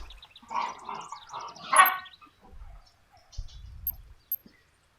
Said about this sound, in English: do apologize if my dogs are making too much noise.